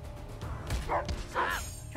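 Cartoonish dogs barking in the South Park video game, two or three short yapping barks over low background game sound, with no talk.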